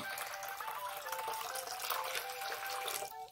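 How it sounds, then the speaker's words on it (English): Water pours steadily into a container in a continuous, moderately loud splashing stream that lasts a few seconds, with no talking. "Pour the water in here."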